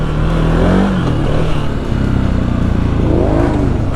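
A quad ATV four-wheeler engine hums and revs continuously at close range while riding through dry mud trails at Busco.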